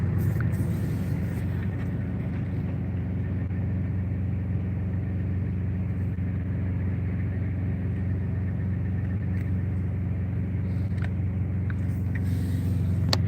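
A truck with a stainless steel trailer sits idling, giving a steady, low engine rumble that carries on without a break, with faint, distant traffic and small clinks in the background.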